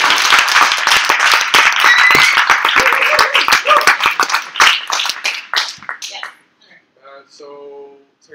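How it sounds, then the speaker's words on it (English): An audience at a civic hack night claps after a presentation, a dense burst of applause that thins into scattered claps and fades, with voices starting up at the end. "Or you can just clap."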